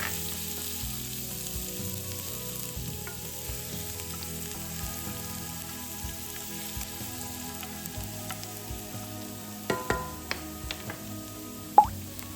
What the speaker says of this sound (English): Heat about 3 tablespoons of vegetable oil. Then fry the garlic until aromatic.